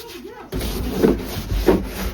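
Something is rubbed and scrubbed against a surface at home in rhythmic back-and-forth strokes, close and fairly loud, with faint voices in the background.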